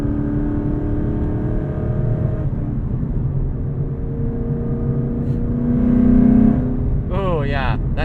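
A 2012 Ford Mustang Boss 302 V8 revs up after a downshift, a deep engine drone heard from inside the cabin that rises and swells briefly before settling, with a brief higher sound near the end.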